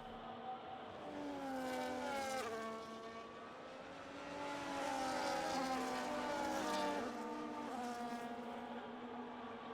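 Several race cars in a racing video game sweep into turn 1 at the Chinese circuit, engine whines rising and falling in pitch as they brake and accelerate, a steady layered drone with no talk over it.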